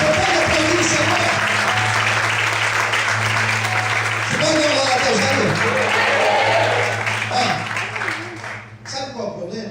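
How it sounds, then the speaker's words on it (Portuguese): A church congregation gives a sustained burst of clapping during a sermon, with a preacher's amplified voice speaking over it before the applause fades out at the end. "Você pode aplaudir o Senhor?"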